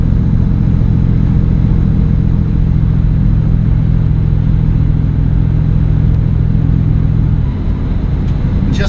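A 1965 Ford Mustang classic car on the road, its engine a steady low droning rumble heard from close by with constant road noise, easing off slightly near the end; nobody speaks.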